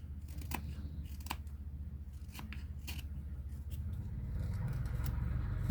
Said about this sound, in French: on va prendre notre petit couteau et on va venir tailler l'arête ici pour faire quelque chose d'arrondi